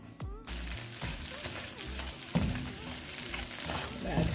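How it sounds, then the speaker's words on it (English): Eggs sizzle in oil in a pot while being scrambled for Jamaican-style Chinese shrimp fried rice, a steady soft crackle broken by occasional scrapes and stirs. "So I didn't want the oil too hot that you cannot get to evenly scramble this around in the pot."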